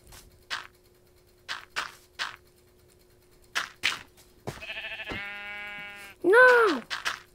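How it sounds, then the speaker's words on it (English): Sheep bleating in the video game Minecraft, a few short wavering bleats near the end after scattered clicks and game sounds, with faint talk in the background. "Give me a sheep."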